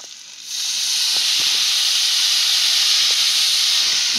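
Chigal greens (a wild leafy vegetable) hit a pan of fried chillies and erupt into a loud, steady broadband sizzle. The hiss swells sharply within the first half second and then holds strong and continuous, with a few faint pops and no talking.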